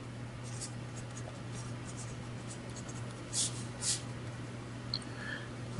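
A pen or marker scratches across a surface in short strokes as a chart is drawn by hand, quiet and close over a steady background hum, with no speech.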